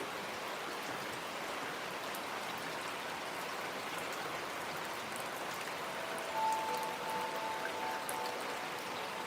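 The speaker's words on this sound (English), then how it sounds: "Is it too much noise out here with the rain?" Steady rain falls outdoors with a soft, continuous patter, and scattered drops tap nearby surfaces. A faint tonal beep sounds briefly in the background.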